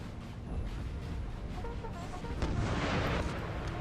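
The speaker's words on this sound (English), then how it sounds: "Good artillery strike there from France, just nicked the English unit there" Artillery fires in a Napoleon: Total War battle between French and English units. A low, rumbling barrage of booms swells and grows louder toward the end, heard alone without talk.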